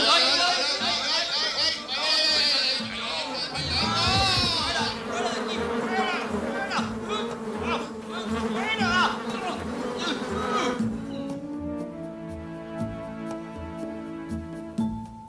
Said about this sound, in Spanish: Las moscas volaban por todas partes.